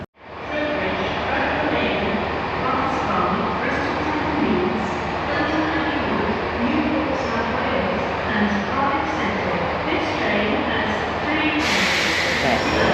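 Train rolling into Portsmouth railway station, a steady loud rumble of wheels and carriage noise throughout, with a brighter hiss rising near the end as it slows; someone speaks briefly over it.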